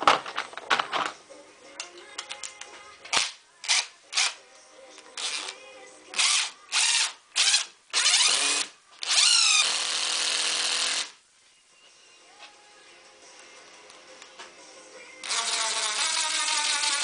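A DeWALT DCF886 cordless impact driver drives self-tapping screws: loud, close repeated bursts of rapid hammering whir, each lasting a second or two, then longer sustained runs, with brief quiet gaps between.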